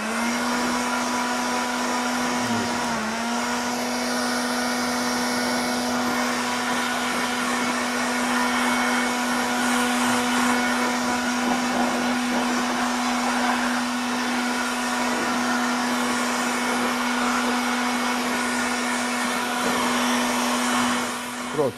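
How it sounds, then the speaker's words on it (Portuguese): An air blower runs steadily at close range, a constant high whine and rushing air for about twenty seconds, cleaning an Einhell TC-SB 200 benchtop band saw; no talk. "passei o soprador, tá tudo limpinho"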